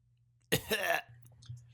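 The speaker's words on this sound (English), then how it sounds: "Cue a coughing noise." One short, close cough breaks a quiet room, a single rough burst lasting under a second.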